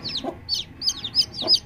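Home-hatched chicken chicks, golden with stripes on top, cheep in quick, bright, downward-sliding peeps near a hen, with a few soft, low clucks mixed in close by.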